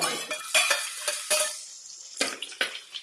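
Green chilies roast in a pan for sabudana khichdi, heard as a soft sizzle broken by a string of sharp stirring scrapes and utensil clinks at irregular intervals, close up and with no speech.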